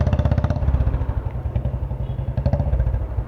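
A Bullet motorcycle engine and exhaust heard close up, a loud steady thumping beat that carries on for the whole three seconds with no talking over it.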